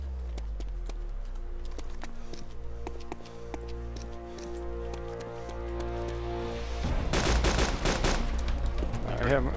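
Rapid gunfire in the survival video game DayZ, a string of sharp shots over a low rumbling background, growing into a louder, denser burst of shots toward the end.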